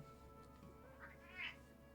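A cat meows indoors, a short plaintive call rising near the end over a low steady background hum, fairly quiet and alone without talk.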